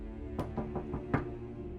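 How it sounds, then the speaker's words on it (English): Knocks on a bedroom door in a quiet room, about four or five dull raps in an uneven rhythm, close and clear over a low steady hum. "I got a knock on my door when I was studying"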